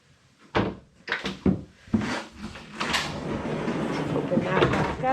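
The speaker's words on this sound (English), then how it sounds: "And this door closes, and there's another closet here." A cabin door on a boat swings shut with a few close wooden thunks and knocks, followed by a rustling, shuffling stretch as someone talks over it.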